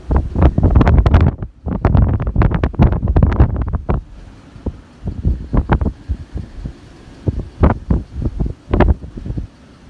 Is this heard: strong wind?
yes